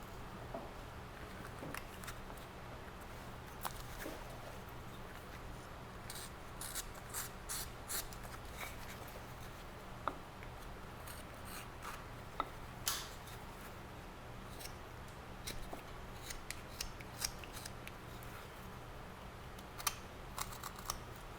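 A knife whittles a small wooden bear letter opener, shaving away bandsaw marks in soft, scratchy strokes that come close and quiet over a steady low hum.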